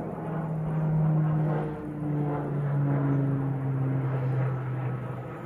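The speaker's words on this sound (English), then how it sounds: "Got an airplane flying over." A propeller airplane, resembling a World War II aircraft, drones overhead, a steady low hum that rises and falls in pitch as it passes, with no voices.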